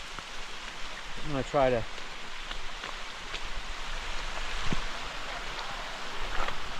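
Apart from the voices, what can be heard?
rain falling on a hiking trail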